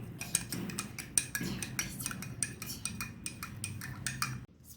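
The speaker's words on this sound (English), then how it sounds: "Then mix it well until the sugar dissolves." A utensil clinks and scrapes against a bowl, stirring sugar into homemade bubble solution. The taps come in a quick, uneven rhythm, close and fairly soft, and nobody speaks.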